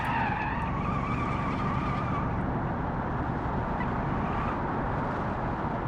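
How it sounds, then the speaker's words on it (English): Car tires skid loudly as the wheels lock under hard braking in the BeamNG driving game. A squealing, tonal screech rises over a steady engine and road roar, then fades into a continuous rough scrub. "I braked so early and I lose control. The car gets unbalanced and then I just can't brake at all because the wheels lock up"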